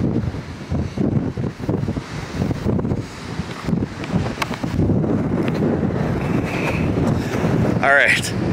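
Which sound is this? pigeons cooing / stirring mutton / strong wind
strong wind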